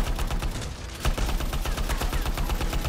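Rapid automatic gunfire from a weapon in the sci-fi shooter Anthem, a dense, loud stream of shots with a brief dip near the start, then sustained rattling bursts with no voices.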